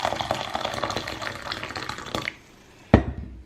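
Hot water is poured into a small pan, a continuous splashing liquid stream that runs for a couple of seconds before stopping, then a sharp knock as something is set down.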